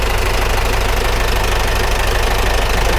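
A soldiers' vehicle's worn engine, suffering blow-by and spewing oil, runs loud and close with a steady knocking, rattling idle that continues without a break.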